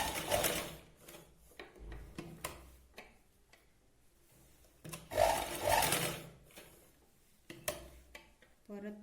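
Domestic sewing machine stitching a seam on a katori blouse, running in short bursts of rapid ticking between pauses, with someone speaking over and between the stitching runs.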